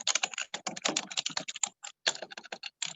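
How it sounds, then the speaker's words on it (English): Rapid typing on a computer keyboard during a business video call, an irregular clatter of crisp keystrokes close to the microphone with brief pauses between bursts and no talk. "I'm not sure who's typing, so I don't know if that came across to everybody else"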